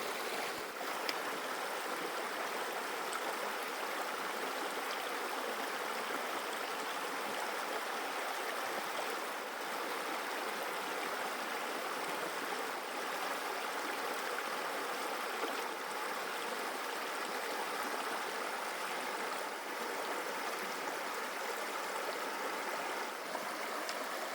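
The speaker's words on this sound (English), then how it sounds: "That was Bald Mountain Stream." Bald Mountain Stream flowing across an Appalachian Trail hiking crossing: a steady, full rush of water babbling continuously at close range, with no voices.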